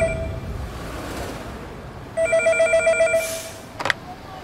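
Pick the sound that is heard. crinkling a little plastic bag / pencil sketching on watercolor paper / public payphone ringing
public payphone ringing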